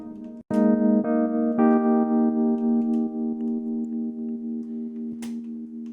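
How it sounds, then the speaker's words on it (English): A sustained synth tone, played dry and then through a reverb send, steps through a few notes, each tail ringing out with a lingering reverb wash that fades slowly; no voices. "Sound with the reverb send."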